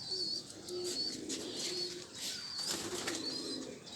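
Racing pigeons, sold as long-flight birds, coo softly in a loft with faint wing flutters and chirps, a continuous low murmur at moderate distance.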